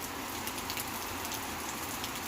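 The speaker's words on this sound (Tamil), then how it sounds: "இப்போ காற்று இல்லாமல் மழை பெய்யும் போது நல்ல மழை பெஞ்சிட்ருக்கு." Heavy rain pours steadily in Tirupattur with no wind, a dense, even hiss of drops hitting surfaces close by, continuous and unbroken throughout, with no voices.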